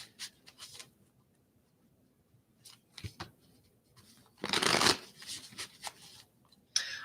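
Tarot cards are shuffled in short, irregular bursts of riffling and sliding, close and fairly quiet, with pauses between them and a louder flurry near the end.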